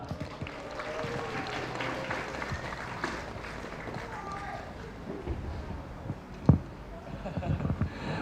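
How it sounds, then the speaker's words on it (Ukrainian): Moderate applause at an award ceremony for winter championship prize-winners and top players, steady clapping mixed with voices and a sharp knock partway through. "І оплески, оплески, оплески, оплески, нехай лунають"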